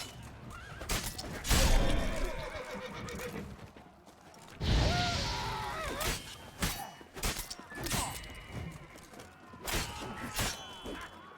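Horses in The Witcher 3 whinny and neigh in loud bursts amid thuds and scuffling in-game action, with nearby hooves and struggle noises between the calls.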